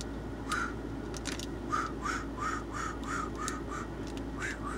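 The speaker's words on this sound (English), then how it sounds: "Come back, crow." A crow calls in a run of about eight short, evenly spaced harsh caws, fairly close, over a low steady background hum.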